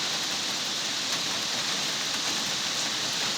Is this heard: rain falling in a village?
yes